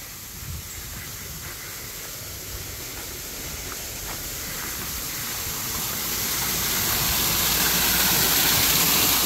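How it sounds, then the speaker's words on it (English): Waterfall in Chankanaab Park, Cozumel: a steady broadband rush of falling water with no speech, growing gradually louder as the falls come nearer. "There's a sign for a waterfall, and I can hear a waterfall."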